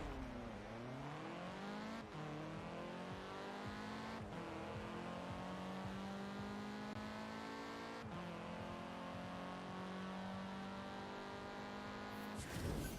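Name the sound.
car accelerating in a drag race, Forza Horizon video game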